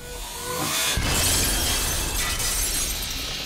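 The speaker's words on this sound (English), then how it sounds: "Dude can break glass just by looking at it" Glass shattering in BioShock Infinite, a sudden bright crash with a spray of breaking shards that lingers as a dense crackling wash for a few seconds, with no talk.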